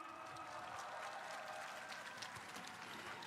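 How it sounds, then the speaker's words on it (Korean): A political rally crowd gives a steady, dense round of applause that stays even and continuous from start to finish, heard from somewhat far off. "국민 여러분께 다시 한번 큰 박수"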